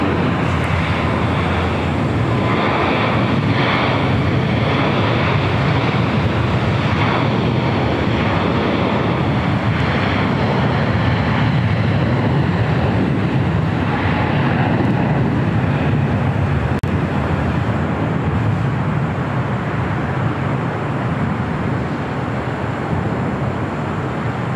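A jet airliner rolls for takeoff on runway 25 right at LAX, a loud, steady broadband engine roar with wind-like rushing that holds strong and continuous throughout, with no talk.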